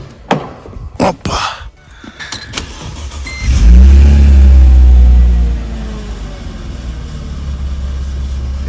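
Car engine with a new exhaust line blipped once up close: a few clicks and knocks, then a loud rev lasting about two seconds before settling back to a steady idle rumble.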